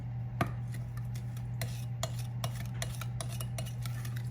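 Spoon scraping and clinking while a sugar mixture is stirred in a glass pan on medium-low heat, a steady run of light taps and scrapes over a constant low hum, with no talk.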